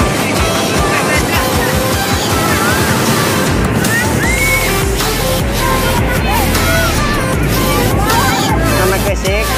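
Waves breaking on the shore at Parangtritis beach in the late afternoon, a steady loud wash of surf and wind with crowd chatter and voices throughout.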